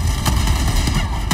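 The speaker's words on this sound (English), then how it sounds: "Beautiful explosions." Booming explosions in the video game Helldivers 2 rumble continuously, with sharp bursts cutting through a dense, loud wash of low-end noise.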